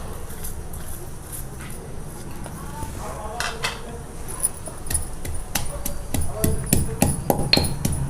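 Cumin and peeled small onions pounded in a small stone mortar for a raw banana yogurt chutney, giving repeated knocking and clinking strikes that grow louder and denser toward the end, with faint talk in the background.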